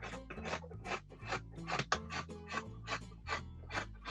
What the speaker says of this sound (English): So we're going to cut all the way along.